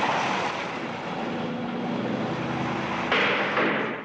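Airliner engine drone, a steady broadband roar with a low hum, loud and continuous throughout, swelling briefly near the end, no voices.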